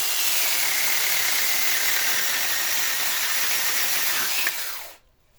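A cordless battery garden saw cuts through a small branch with a steady, high-pitched buzzing whine that holds evenly for several seconds, then stops abruptly, leaving near silence.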